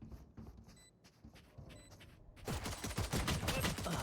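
Rapid bursts of gunfire shooting through walls in the tactical shooter VALORANT, a dense fusillade of sharp shots that grows louder and heavier midway, with no talk over it.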